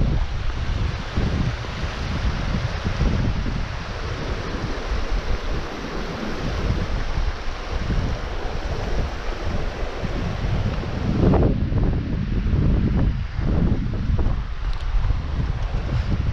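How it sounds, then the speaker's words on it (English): Steady wind gusts outdoors at a pond in Montgomery Bell State Park, roaring and buffeting the microphone loudly throughout with no one talking. "And the wind's blowing."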